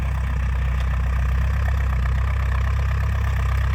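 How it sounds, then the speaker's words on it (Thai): A heavy Ford tractor engine idles steadily nearby, a low throbbing rumble that stays constant throughout. "ต้องใช้รถไถใหญ่ครับ แรงกำลังดีครับผม"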